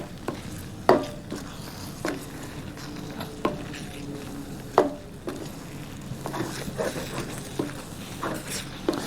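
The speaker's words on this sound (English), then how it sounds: "It's gonna bubble up and boil up, and it'll start to do its thing as it thickens" Mongolian beef sauce bubbling and simmering in a pan, a steady soft sizzle with irregular popping bursts and occasional utensil clinks, fairly close, no talking over it.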